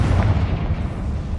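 A Confringo fire spell detonates in Hogwarts Legacy, a dense, rumbling explosive blast with a heavy low-end boom that rolls on and decays slowly, loud and close, with no voices.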